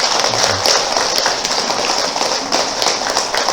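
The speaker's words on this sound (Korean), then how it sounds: "우리 기도스님 열심히 또 기도 잘 하시라고 큰 박수 한번." An audience at a Buddhist temple's fifth-anniversary ceremony gives sustained applause, with dense overlapping clapping throughout.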